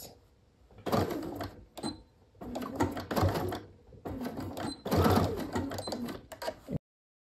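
Sewing machine basting fabric along straight edges with a quarter-inch seam allowance, rapid mechanical stitching in several bursts broken by short stops, close and moderately loud.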